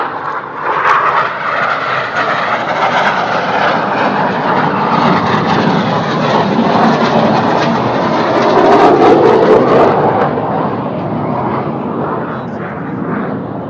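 Red Arrows jets roar overhead during a synchro pair double-roll display, a loud continuous broadband rush that swells and fades slightly as they pass, with no clear talk over it.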